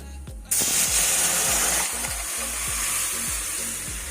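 Dal hits a hot tempering of mustard seed, dried chilli, garlic and curry leaves with a sudden loud burst of sizzling, then settles into a steady close hiss, a few faint voiced sounds underneath.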